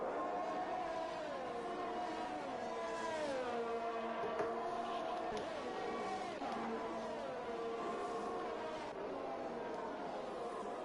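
An F1 2021 race car at the French Grand Prix accelerates hard with a loud, continuous engine whine that rises and falls through gear changes, heard under steady race commentary.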